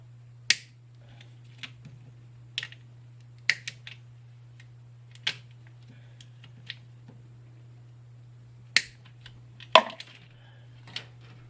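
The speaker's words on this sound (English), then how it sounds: "Let me cut some of these zip ties" Sharp snips cut zip ties on the gauge wiring harness of a 1966 Mustang, a dozen or so close, crisp clicks at irregular intervals over a low steady hum, no talk.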